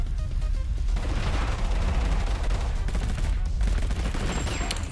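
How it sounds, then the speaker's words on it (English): Grenade blasts from a volley grenade in the battle game Totally Accurate Battlegrounds, a dense, continuous barrage of booming explosions and gunfire-like cracks filling the whole stretch at steady loudness. "The volley grenade got him."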